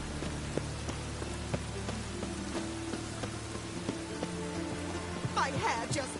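Steady rain from The Witcher 3 game on PS5 patters continuously as a soft, even hiss, with a low ambient drone and music beneath it and brief chime-like accents near the end.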